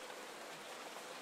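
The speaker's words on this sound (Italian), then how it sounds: "Adesso piove!" Cartoon rain in a Doraemon episode falls as a brief, steady, soft hiss of downpour with no voices over it.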